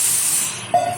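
Water poured into a hot pan for oats masala hisses sharply at first, then the sizzle eases into a softer steamy hiss, ending with a brief tonal squeak near the end.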